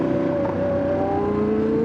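A passing vehicle with a loud aftermarket exhaust, a steady droning engine note that slowly shifts in pitch, heard close and loud over road and wind noise.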